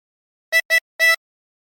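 Three short blown notes on a tremolo harmonica at hole 11, two quick ones followed by a slightly longer third, clear and bright against silence.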